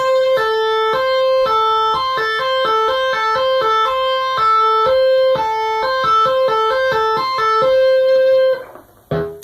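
A clean, bright guitar trill of repeated notes, alternating between a steadier eighth-note pulse and quicker sixteenth-note bursts, played alone and ending with a short rustle.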